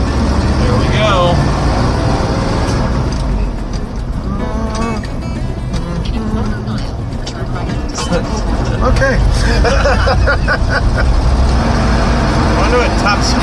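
Interior cabin noise of a 4-wheel drive crew cab tow truck with a 4-speed transmission while driving: a steady, loud low engine and road rumble that runs throughout, with people talking over it.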